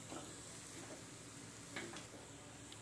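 Atta halwa of wheat flour being stirred and mixed in a pan, giving a steady soft sizzle and scraping texture throughout, with a few brighter scrapes near the end.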